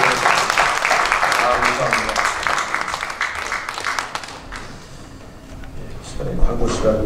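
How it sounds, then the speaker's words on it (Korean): Church congregation applauding at a missionary sending service, a dense sustained clapping that fills most of the stretch before thinning out, with some voices mixed in beneath it. "힘내서 열심히 사역하시라고 박수로 한번 격려하겠습니다."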